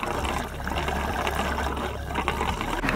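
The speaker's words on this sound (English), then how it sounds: "you also might want to fill up your water tank" Water runs steadily into a campervan's water tank, a continuous rushing, gurgling flow with a low hum beneath, heard close with no talking.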